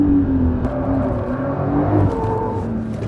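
A Porsche 911 Dakar driven in rally mode, its engine droning steadily with shifting tones as it runs along, loud and close inside the car, with no talk.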